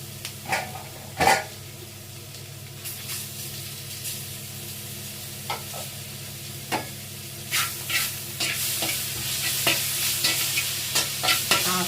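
Chicken liver and gizzard stir-frying in a pan for a roadside-style fry, a steady sizzle with scattered scraping stirs and spoon knocks, close and alone with no talk.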